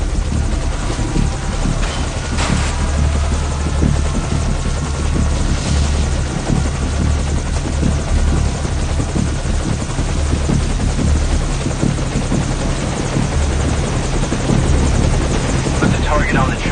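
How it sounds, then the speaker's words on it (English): Helicopter rotor chop from the video game Metal Gear Solid 5: Ground Zeroes, a loud steady drone with deep low thump throughout, with game effects and background sounds layered on top. "Okay, the enemy has spotted our helicopter,"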